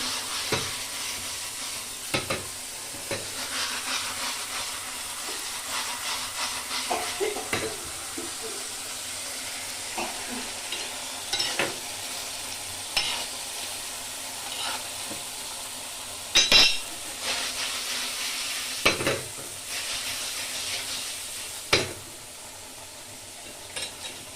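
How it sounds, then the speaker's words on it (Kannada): Chicken sukka frying in oil that has started to separate from the katawa masala, with a continuous sizzle and regular stirring scrapes and knocks of a spoon against the pan, close by. "ಈ ರೀತಿ ಇದನ್ನ ಚೆನ್ನಾಗಿ ಫ್ರೈ ಮಾಡ್ಬೇಕು"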